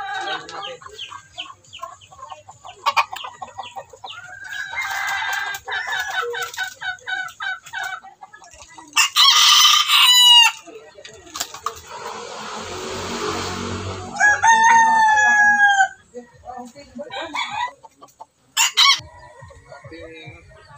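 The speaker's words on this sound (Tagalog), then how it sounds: "Ang ating bantam." Bantam chickens crow and cluck in bursts, with several loud cock-a-doodle-doo calls standing out among softer clucking, close by and without talk.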